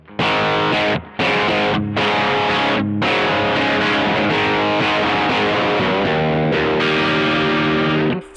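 Electric guitar on a humbucker pickup played through a Mosky Ultimate Drive distortion pedal at lower gain, chunky distorted chords and riffs with short pauses, the final chord ringing out.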